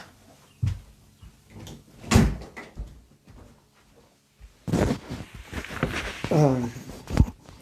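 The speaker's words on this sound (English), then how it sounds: "I opened that door" A door opens indoors with a soft latch click and creak among a few handling thumps, followed by a rustle and low movement noises at moderate distance.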